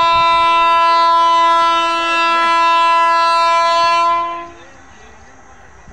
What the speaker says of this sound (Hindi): आप देख सकते हो दोस्तों, अभी आने वाली ट्रेन